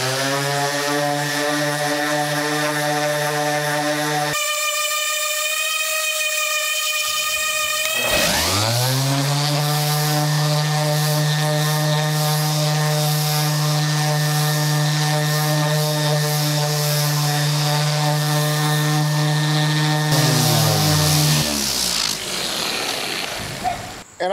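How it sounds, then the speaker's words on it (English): A power sander runs steadily outdoors on the wood veneer of a Singer sewing machine cabinet, a loud continuous motor whine that cuts out briefly, restarts and spins down near the end, with no talking. "we're going to sand this off, and take a look and see just how well we can get this piece of veneer to look"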